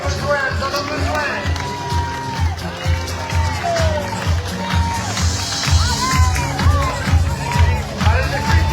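A crowd cheers and claps at the Abrivados festival in Calvisson, a lively outdoor event, with shouts and whistles rising and falling over rhythmic low thumps and a loud announcer's voice talking over it.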